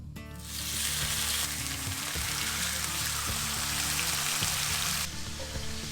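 Wild boar tenderloin hits hot oil in a pan over medium-high heat, bursting into a loud, steady sizzle that holds for several seconds before easing slightly, with faint clinks of handling underneath.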